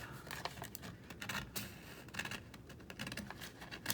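Scissors snip through faux vellum paper printed with a digital design, a series of quick, crisp close-up cuts in an irregular rhythm with faint rustling between them.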